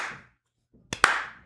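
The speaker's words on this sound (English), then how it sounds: "it sounds like a slow clap" Two sharp hand claps sound close together near the end, loud and close, after a brief fading noise and a moment of near silence.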